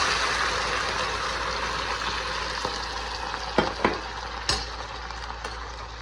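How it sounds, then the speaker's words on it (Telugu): Water, boiled beforehand, is poured into a hot pan of fried upma seasoning, setting off a steady loud sizzle with a few sharper hissing bursts near the end. "ఇప్పుడు వాటర్ వేస్తున్నాను"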